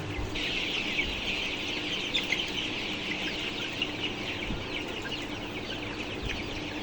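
Young Sonali chickens cluck and fuss in a pen while being caught for weighing, a steady chorus of soft clucks and chirps at moderate distance with a faint shuffling background.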